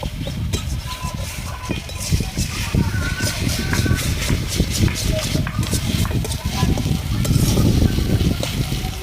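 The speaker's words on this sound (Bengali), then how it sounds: "যতক্ষণ না মশলা থেকে তেল উঠবে ততক্ষণ আমি মশলাটা আস্তে আস্তে কষে নেব" Masala spices stir-fried slowly in a pan for a big catfish (magur) curry give a steady low sizzle with soft scraping stirs close by, continuing under ongoing talk.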